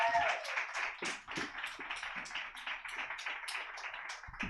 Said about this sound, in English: Please start clapping, make some noise, give it up for Regina Gibbons